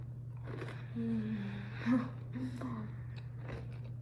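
A close, crisp bite into a crunchy chocolate chip cookie with a soft middle, followed by soft chewing crunches, over a low steady electrical hum.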